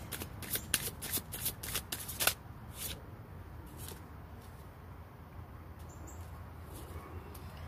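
Tarot cards being shuffled by hand in quick riffling bursts during the first two seconds, followed by quieter handling and faint background chirps.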